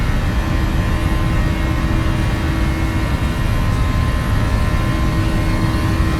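Boeing 737 jet engines at takeoff thrust in the Prepar3D flight simulator, departing Phoenix: a loud, steady roar with a constant whine that stays level from start to finish, and no talk over it.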